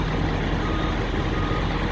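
2020 Ford F550 dump truck engine running, a loud, steady low rumble throughout with no distinct start transient.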